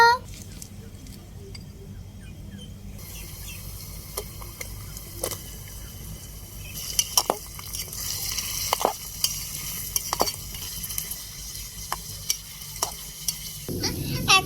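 Onion and tomato sizzle softly in a pan for khichuri, with a steady frying hiss that swells midway, punctuated by scattered clicks and scrapes of a spoon stirring against the metal.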